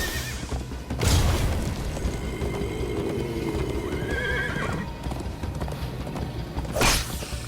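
A horse gallops with rapid clip-clop hoofbeats in the Minecraft: Story Mode video game, with loud neighs near the start and end over a rumbling game soundtrack.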